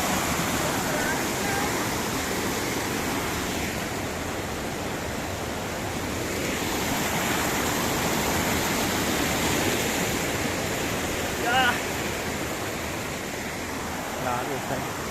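A rushing stream at a rural sitio roars in a dense, steady wash of water close by, with brief voices faintly heard over it.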